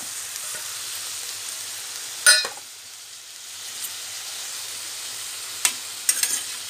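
Bottle gourd sambar base with tomatoes and spices stir-frying in a pan, a steady soft sizzle with a few sharp scraping stirs of a spoon against the vessel, close and moderately loud, no voices.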